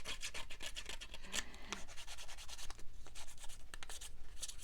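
A paper craft page being roughed up by hand without sandpaper gives a steady dry rubbing and scraping, close and continuous, with quick strokes repeating throughout and no talking.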